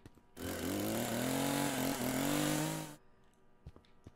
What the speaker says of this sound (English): Yeah, chainsaw!